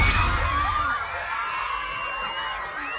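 An earthquake brings down part of a school roof at an elementary school in Malita, Davao Occidental, with a loud crash at once and then sustained shouting and screaming from children over ongoing crowd noise.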